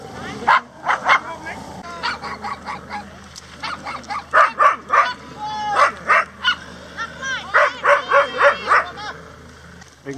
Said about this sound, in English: So it's a girl that is trying to play with a male dog.